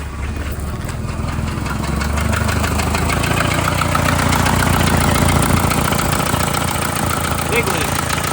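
A manual Volvo 960 idles with a loud exhaust leak hissing and ticking from a snapped exhaust manifold stud, a close, steady rumbling chuff with rapid puffing pulses throughout.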